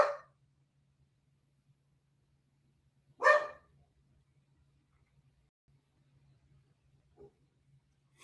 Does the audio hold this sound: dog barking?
yes